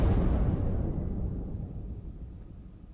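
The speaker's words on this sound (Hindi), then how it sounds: "आप धमाकों की आवाज सुन सकते हैं।" Explosions from Indian army firing on Pakistani positions during a border clash: a loud, dense low rumble at onset that slowly decays, with no talk.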